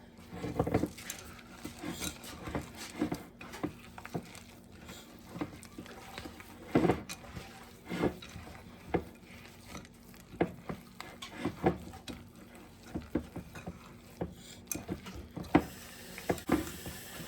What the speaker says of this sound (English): I'm gonna put in a whole cup of white chocolate chips and mix those as well